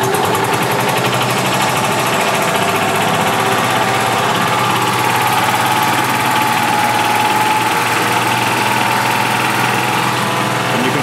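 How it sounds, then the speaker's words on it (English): A gas 2011 Club Car DS golf cart with a bad governor runs steadily and loudly after a pedal click, its small engine holding a continuous buzzing drone throughout. "as soon as I step on the pedal, you'll hear the click, and then you'll hear the engines run and not just crank"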